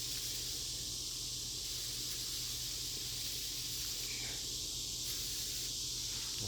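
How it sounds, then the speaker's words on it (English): A garden sprayer mists marigolds and tomato plants in a wooded garden, giving a steady, soft hiss that runs without a break at moderate level, with faint outdoor background and no talk. "and I'll spray my marigolds"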